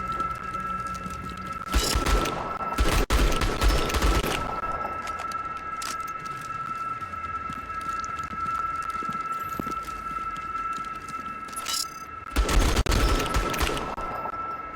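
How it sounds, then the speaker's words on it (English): Auto turrets in the video game Outpost: Infinity Siege fire two rapid bursts of gunfire over a constant high mechanical whine and low background rumble. "Also, you can hear the whine of those auto turrets very loudly."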